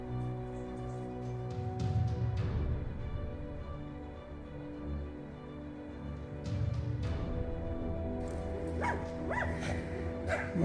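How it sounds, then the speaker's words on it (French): A neighbour's dog barks excitedly outdoors, repeated bursts of barking at moderate distance with some whimpering yips, over steady background hum. "J'ai le chien du voisin qui s'excite là"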